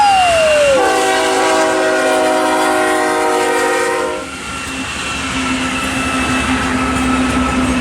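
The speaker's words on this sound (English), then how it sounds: "the CM locomotive coming down Tehachapi again." A CM locomotive-led freight train coming down Tehachapi sounds its horn in a long loud chord that cuts off after a few seconds, leaving the steady rumble and rolling clatter of the passing train.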